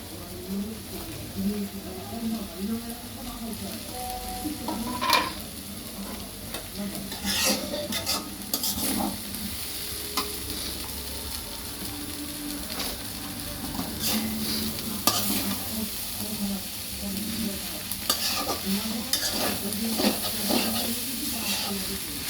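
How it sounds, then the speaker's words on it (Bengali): A spoon stirs fresh coriander into spices frying in a pan, giving a continuous close sizzle with repeated scraping and clattering strokes, fairly loud throughout. "এবার ভালো মতো একটু নেড়ে চেড়ে নিব"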